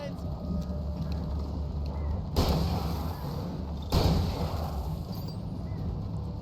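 Gunfire in the video game Alan Wake: two loud, sharp broadband blasts roughly a second and a half apart, standing out over a steady low rumble of game ambience.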